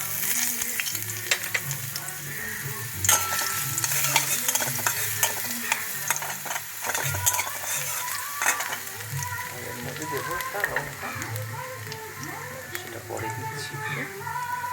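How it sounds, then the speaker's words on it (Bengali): Crushed garlic hits hot oil in a kitchen pan and sizzles loudly and continuously, with frequent clinks and scrapes from stirring throughout. "আর তেলটা গরম হয়ে গেছে আমি এর মধ্যে দিয়ে দিলাম যে রসুনটা ক্র্যাশ করে দিচ্ছিলাম ওটা"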